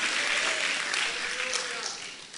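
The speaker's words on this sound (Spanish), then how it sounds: "También el aplauso" A church congregation claps steadily throughout, a dense room-filling applause that eases slightly toward the end.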